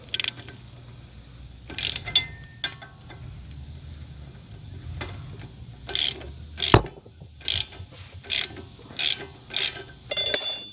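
Ratchet wrench with an 18 mm socket turning a bolt on a 2016 Dodge Charger RT 5.7L Hemi engine: several short, sharp bursts of clicking pawl, spaced irregularly, close by and alone.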